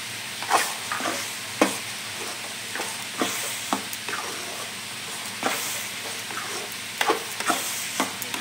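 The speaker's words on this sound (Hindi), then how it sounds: "सबटा के मिलाकर भूजे के छै।" Spices and tomato fry in mustard oil for a Maithil fish curry, a continuous sizzle broken by repeated scraping spoon strokes against the pan at an irregular rhythm, heard up close with no talking.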